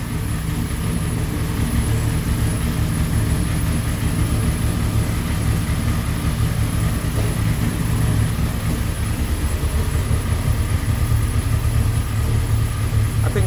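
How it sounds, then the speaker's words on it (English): A car engine idles steadily with a low exhaust rumble through a Tanabe Touring Medallion exhaust and a ticking valve-train clatter louder than the exhaust, constant and close, with no talking. "The valve train noise sounds louder than the exhaust."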